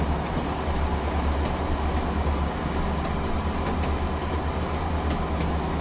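A Class 142 Pacer diesel train runs on the Ormskirk to Blackpool South line in the Train Sim World 6 game, giving a steady, continuous rumble with no talking.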